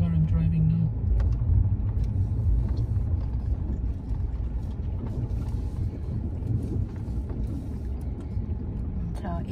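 A car drives across a frozen lake used for ice fishing in Canada, its engine and tyre rumble steady and close with wind buffeting the microphone throughout.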